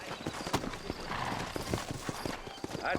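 Horse hooves clip-clop at a quick rhythm with a busy town background in Red Dead Redemption, several overlapping steps.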